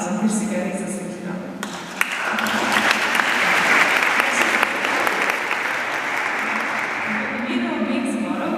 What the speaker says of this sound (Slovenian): prosim, da svoje veselje izrazite z močnim aplavzom, ker si ga res zaslužijo